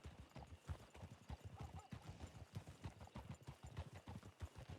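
Horse hooves clip-clop in a steady, rapid rhythm in a video game as the mount moves up to a canter, the close, continuous beats carrying on throughout the stretch.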